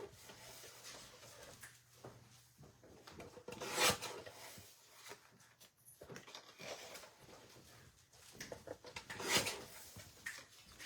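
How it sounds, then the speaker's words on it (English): Paper trimmer cutting cardstock pieces for scrapbooking, with soft sliding rasps and two sharp, louder chopping swipes spaced several seconds apart, all close and without talk. "Okay, so we're just going to take our trimmer"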